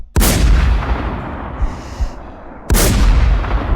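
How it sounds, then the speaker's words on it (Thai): Two loud M107 sniper rifle shots in the video game Infestation, about two and a half seconds apart, each a sharp blast with a booming decaying tail. "ผมยิงให้ดู"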